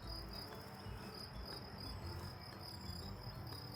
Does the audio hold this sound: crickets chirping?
yes